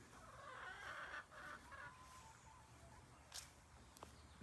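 Farm chickens cluck and squawk in a short run of calls at moderate distance, with a few sharper sounds near the end and no talking.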